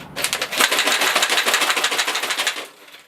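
A lidded container shaken hard in rapid, rattling bursts that mimic machine-gun fire, close and loud for about two and a half seconds before tapering off.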